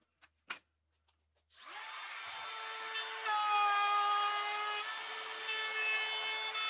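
Router bit cutting a slot through quarter inch plywood in a dado jig, a few knocks, then a loud sustained high whine with a rough cutting rasp that rises slightly midway and keeps going, close and without speech.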